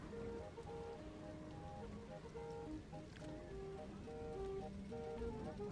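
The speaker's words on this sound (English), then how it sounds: "It's raining." Rain falls in Planet Coaster 2 as a soft, steady patter under gentle background music with sustained tones, quiet and continuous throughout.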